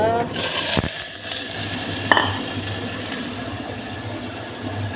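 A steady sizzle from a hot pan as lentils are added, with a sharp clatter near the middle, low hum in the background, no talking.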